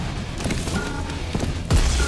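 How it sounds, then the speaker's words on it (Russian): Gunfire from a weapon's primary fire in the first-person shooter Prodeus, a dense burst of shots and booms over busy game noise, with a heavy low impact near the end. "Первичный огонь у этой пушки странный"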